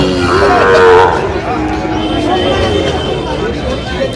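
Sahiwal bull calf, about four to five months old, lowing loudly at a busy cattle market, one drawn-out moo near the start, with a crowd murmuring behind.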